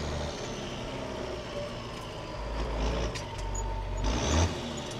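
A vehicle is shifted between gears without the clutch, giving a steady engine drone with low mechanical clunks and a rise in revs as each gear engages. No one speaks.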